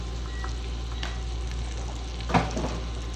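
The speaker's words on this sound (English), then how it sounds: "Now we're sauteing the onions" Onions sauteing in rendered fat in a pan, a soft continuous sizzle over a low hum, with a couple of sharper stirring clatters near the end.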